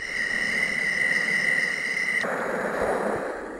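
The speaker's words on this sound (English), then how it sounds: "Summer night." A sleep machine's summer night sound: a continuous high chirring of crickets over a soft hiss, cutting abruptly to a broader rushing noise partway through.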